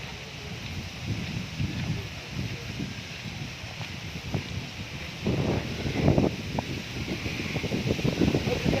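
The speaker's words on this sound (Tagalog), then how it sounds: "Lakas ang hangin dito." Strong wind gusts in Sariaya, Quezon, making steady rushing, buffeting noise against the microphone that grows heavier toward the end.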